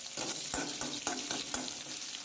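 Sliced onion frying in hot oil with cumin seeds in a kadhai, a steady close sizzle broken by a few louder crackling bursts, with no talking.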